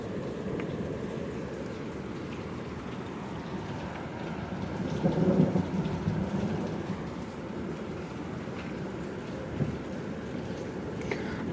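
Steady heavy rain pours through a dark thunderstorm with hail and wind gusts up to 65 miles per hour, while a low rumble of thunder swells briefly midway; the soundscape stays dense and continuous, with no voices.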